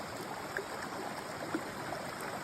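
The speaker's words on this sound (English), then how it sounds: "just wanted to capture this creek just flowing like you wouldn't believe" A forest creek runs across a hiking trail, a soft, even rush of flowing water with faint gurgles, low in level and steady throughout.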